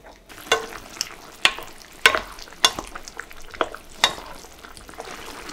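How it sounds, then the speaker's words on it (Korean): Gochujang and seasonings are stirred in a pan with a utensil, giving a series of sharp scraping clacks at roughly regular intervals over a faint background hiss. "고추장과 양념들을 잘 풀어주세요."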